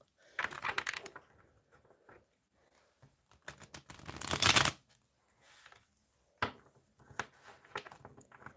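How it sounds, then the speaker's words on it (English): A deck of tarot cards being shuffled by hand, with riffling bursts and soft taps at close range, one long loud flurry in the middle and quieter handling before and after. "let's have a really good shuffle, because this has been a lot."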